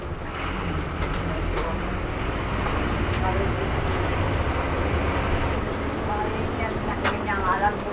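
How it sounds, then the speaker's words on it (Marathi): A BS6 Ashok Leyland bus with pushback seats setting off from Dhule on a long-distance run, heard from inside as a steady engine and road drone with rattles, someone talking over it. "गाडी निघाली आहे धुळ्यावरून।"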